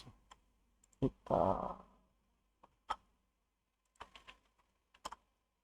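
Keystrokes on a computer keyboard while entering a static IP route command on router 0 in Cisco Packet Tracer: scattered close clicks with one short burst of rapid typing, the rest isolated taps amid quiet.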